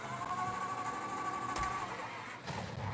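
A car engine cranking and catching in the Mafia 3 video game, with a steady mechanical whir and a few sharper bursts as it turns over, moderately loud, with no talking.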